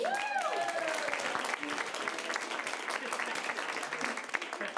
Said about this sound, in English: applause again for Anthony in our tech booth